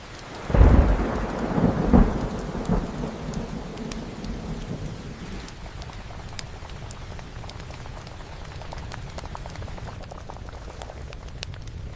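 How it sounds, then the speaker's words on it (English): Heavy monsoon rain pours steadily in a village setting, with a loud, close rumble of thunder near the start that rolls and fades into a dense, continuous downpour hissing on surfaces. "It is really coming down out there."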